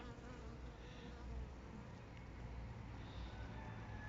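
A dense, steady buzz of many honey bees at a hive swarms close by, continuous and humming without a break.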